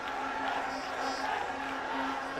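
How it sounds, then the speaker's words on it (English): Stadium crowd at a football match, a broad steady roar of cheering and chanting from afar that runs without a break. "The crowd backing him."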